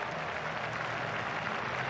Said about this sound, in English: Another 6 for England. Crowd loving this.